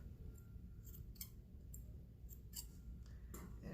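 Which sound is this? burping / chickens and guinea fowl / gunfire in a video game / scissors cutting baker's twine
scissors cutting baker's twine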